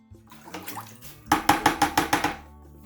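Hydrated lime is stirred into water in a container, giving a soft pour followed by a run of rhythmic sloshing and clinking strokes, about eight regular beats, close and moderately loud.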